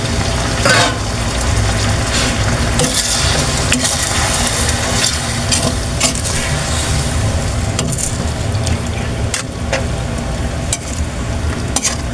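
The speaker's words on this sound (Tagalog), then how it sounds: "Lagyan natin guys ng kaunting sabaw." Broth is poured into a hot pan of chicken lechon paksiw, loud close sizzling and bubbling with scraping stirs and clatters running steadily throughout.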